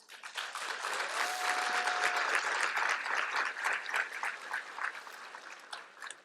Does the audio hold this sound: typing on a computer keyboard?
no